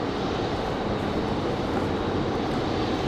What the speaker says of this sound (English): So the Dreamliner finally getting a move on.